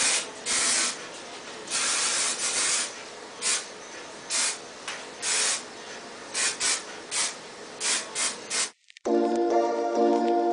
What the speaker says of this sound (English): the last thing I'm going to do is apply hairspray